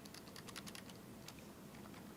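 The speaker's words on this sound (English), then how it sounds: "So let's type something here." Keys clatter on a computer keyboard in a pharmacy software session, a quick irregular run of light clicks at moderate distance that thins out toward the end. No one speaks.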